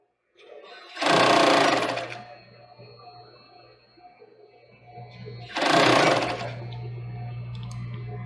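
A sewing machine stitches the cord onto a child's swimsuit in two loud, steady bursts of about a second each, separated by a quieter pause with a faint hum in between.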